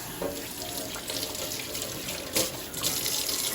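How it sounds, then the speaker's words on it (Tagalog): Tap water runs steadily into a sink as hands are washed during kitchen prep for back ribs, a continuous close splashing hiss with brief surges where the hands shift under the stream. "Alright, so maghuhugas lang po tayo ng kamay."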